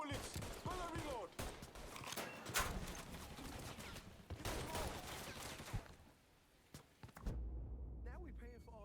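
Gunfire in the Mafia 3 video game, a dense run of rapid shots and bursts filling most of the clip under voices, then dropping to quieter sound near the end.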